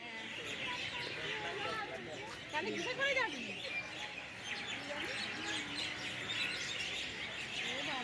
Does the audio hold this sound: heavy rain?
no